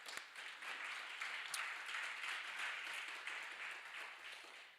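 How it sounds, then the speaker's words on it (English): Applause for sponsors at an Indiana small-business pitch competition, a steady wash of clapping from a seated audience lasting the whole few seconds at moderate level, with no voices over it. "Big round of applause for them."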